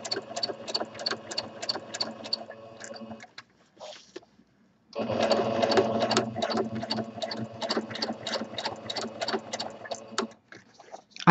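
A sewing machine runs in rapid bursts of free-motion stitching on fabric appliques, a close, busy needle rattle that pauses briefly around the fourth second before resuming, with no talking.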